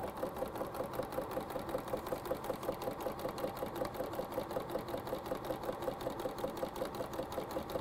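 A sewing machine chain-pieces quilt strips for a table runner, running in a steady, fast, evenly pulsing stitch rhythm close up and alone throughout.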